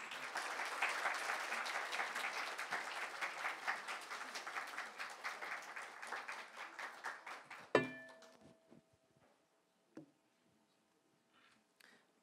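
Applause from a hall of newly certified loss adjusters greeting their professors at a 2023 celebration meeting, a sustained dense clapping that stops abruptly, leaving a few stray claps and small sounds in near silence.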